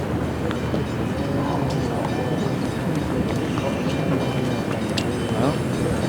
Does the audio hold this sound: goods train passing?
yes